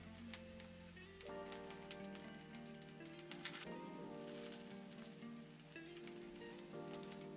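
Hot dogs grilling in a pan lightly brushed with oil, giving a soft, steady sizzle and crackle at low volume beneath prominent background music.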